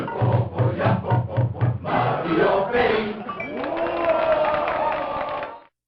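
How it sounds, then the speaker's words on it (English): A simple synthesized cheering track from the Mario Paint title screen on the video game: a rhythmic pulsing crowd-like cheer that swells into a sustained tonal roar before cutting off abruptly. "It defaults to a simple cheering track"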